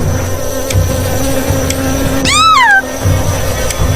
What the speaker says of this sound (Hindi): कुछ मधुमक्खी निकली और उन सभी के आसपास मंडराने लगी।